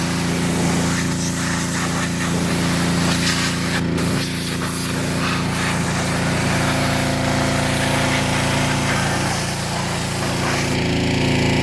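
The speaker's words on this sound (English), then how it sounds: "Obviously, the pressure washers are fine, but you want to make sure you have the right tip on there." A pressure washer sprays a Gravely ZTX-52 zero turn mower at close range, a loud, steady hiss over a running engine drone that continues almost unbroken for the whole stretch, with only brief dips.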